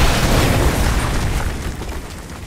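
A loud, close artillery strike explosion in Call of Duty: Modern Warfare 2 hits with a heavy boom, then rumbles and slowly fades over a couple of seconds, with no voices over it.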